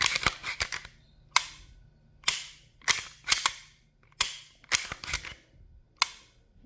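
Sharp dry-fire trigger clicks from a Canik TTI Combat pistol in irregular pairs and singles, about a dozen over several seconds, crisp and close with quiet gaps between.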